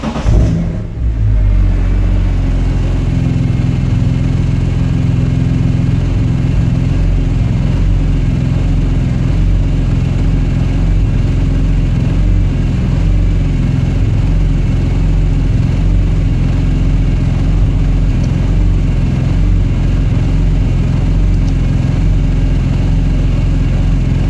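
A BMW S54 engine starts and runs steadily during a VANOS test, a close, continuous loud idle with a rough mechanical rumble after a brief start-up burst.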